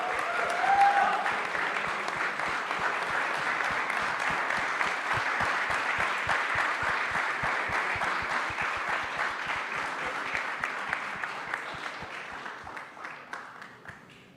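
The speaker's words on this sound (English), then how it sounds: "please give a huge round of applause for our guests who are present here." Audience applause at a youth conclave, a dense, sustained burst of clapping from a large crowd that holds steady for a long stretch before gradually tapering off.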